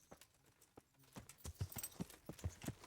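Horse hooves clip-clop at a steady walking rhythm in a video game, fairly close and fairly quiet, with a few soft footfalls before the beat settles in.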